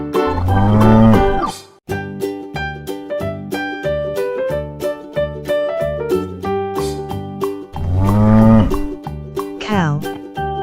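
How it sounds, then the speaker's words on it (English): A children's toy plays a loud cow moo sound, with two long lowing moos set against bouncy electronic music, close and clear. "Cow."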